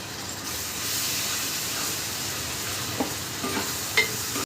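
Ginger garlic paste frying in a pan for a fish pulusu curry: a steady close hiss and sizzle, with a few sharper pops and stirring clicks near the end, and no talking.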